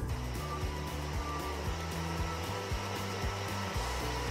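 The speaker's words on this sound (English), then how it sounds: "So I'll blend it now." A blender whirs through bananas with a splash of coconut milk, a steady close motor drone with a regular stepped pulsing as the contents churn, with no voices.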